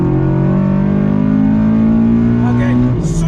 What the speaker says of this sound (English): super slick gear change